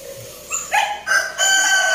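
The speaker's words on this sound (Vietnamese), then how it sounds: "Đây con gà này chuẩn bị gà đá nè." A fighting rooster crows close by at a chicken farm, a loud strained call rising in bursts and holding a bright sustained note at the end.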